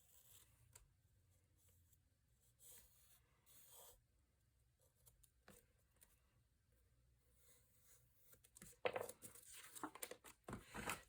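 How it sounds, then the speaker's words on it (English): Pencil graphite rasps on paper while tracing around a cut paper pumpkin shape for a craft folio, faint scratchy strokes at first, then louder, denser rubbing and rustling toward the end. "we're just going to trace around the outside of it with a pencil"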